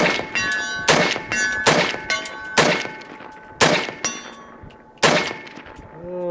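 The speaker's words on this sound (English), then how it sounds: "Let's shoot some 300 blackout. 100 yards." An AR-15 chambered in 300 Blackout fires at steel targets 100 yards away, with seven loud, close shots at uneven intervals, each followed by a ringing metallic clang from the struck steel and no talking.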